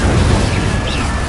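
An Incendio fire spell bursts in the Hogwarts Legacy video game, a loud, dense roar of flame that holds steady and close for just over a second, with no pause or break.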